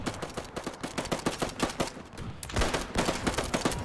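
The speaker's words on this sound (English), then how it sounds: "Currently, my machine guns are targeting this guy." Dense machine gun fire in the WW1 strategy game Between Empires rattles in rapid overlapping bursts, loud and close, with several guns firing at once and no pause across the stretch.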